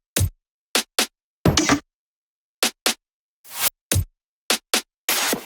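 Dry percussion hits from a bass house track, played with no effects: short, punchy clicks and knocks plus a few longer noisy bursts, spaced in an irregular rhythm with silence between them, played alone.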